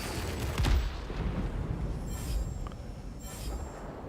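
Rapid aircraft gunfire from an F-94D Starfire jet in the World of Warplanes combat game: a sharp loud burst near the start, then sustained rumbling engine and gun noise with further faint bursts.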